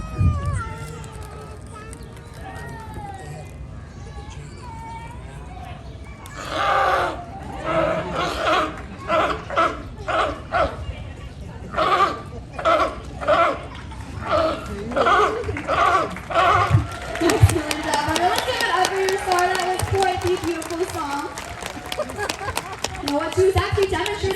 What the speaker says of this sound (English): Barking or roaring noises that sea lions are known for